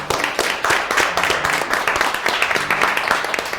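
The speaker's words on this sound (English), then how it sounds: "Let's clap it up for the ladies" A studio audience at a cooking competition claps and applauds the contestants, a dense, continuous patter of hands at close range with no voices over it.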